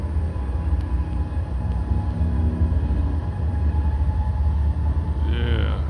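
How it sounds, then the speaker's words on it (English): A Canadian National freight train rumbles steadily across an old wooden railway trestle over the Black Warrior River, a loud, continuous low rolling roar with faint engine tones on top. "And we got a train coming."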